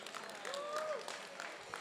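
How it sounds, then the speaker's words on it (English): Applause from a gala audience at a 25th anniversary event, a faint, steady spread of clapping that runs for about two seconds, with a brief whistle-like tone rising over it midway. "Can we hear a big round of applause for this man here?"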